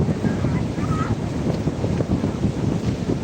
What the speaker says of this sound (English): The wind is kind of chilly.